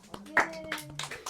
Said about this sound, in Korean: 우리 박수 한번 쳐요.